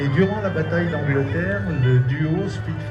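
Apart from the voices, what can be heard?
No distinct noise like a dog, phone or traffic.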